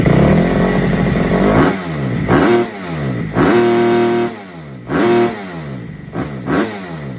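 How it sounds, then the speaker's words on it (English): Four-stroke motorcycle engine bouncing off its rev limiter, several sharp repeated bursts of high revs that cut and surge again in an uneven stuttering rhythm, loud and close with no voices. "Second four-stroke rev limiter."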